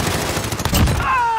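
Gunfire in Call of Duty: Modern Warfare, rapid shots crackling in a dense cluster over game ambience with a brief tonal whine near the end.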